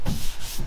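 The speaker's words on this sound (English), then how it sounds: "So you just sand it and fill it and block it and, until it's good." Short bursts of sanding on a truck bed's paintwork, a block rubbed across primer and filler during bodywork spot repairs, heard close and alone as a gritty scrub with a second stroke near the end.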